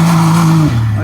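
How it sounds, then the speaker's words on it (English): A Can-Am side-by-side doing a burnout on a dirt trail, its engine a loud, steady droning hum that drops lower partway through. "Give me a burnout."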